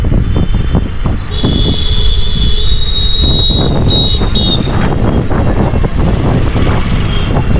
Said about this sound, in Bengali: উপরে যাচ্ছে এখন প্যাসেঞ্জার ট্রেন।